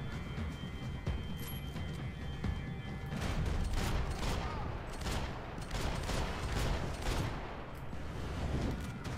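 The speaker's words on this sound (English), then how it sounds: "Gunfire over Hoboken." Dense, continuous gunfire in the video game Max Payne 3, with rapid overlapping shots and bursts, loud and close, like a heavy firefight.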